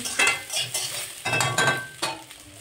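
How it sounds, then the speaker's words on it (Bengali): Vegetables tip into hot oil with browned onion in a pan for a Bengali shukto with stale fish, bursting into a loud sizzle and then scraped and stirred in several close, uneven surges. "এবার আমি এর মধ্যে সবজিগুলো দিয়ে দিচ্ছি। সমস্ত সবজি দিয়ে দিলাম একসঙ্গে।"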